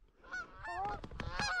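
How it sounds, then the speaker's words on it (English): Geese honk in a short flurry of nasal calls over a plowed corn field, fairly faint and a little distant, with several birds calling over one another. "There's so many geese everywhere."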